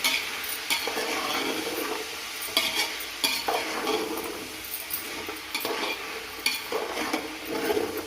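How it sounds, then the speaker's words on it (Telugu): Mixed vegetables tossed and stirred in a frying pan, a close and continuous run of scraping and rustling strokes over a low sizzle. "ఇప్పుడు వీటన్నిటిని ఒకసారి బాగా కలుపుకోవాలి."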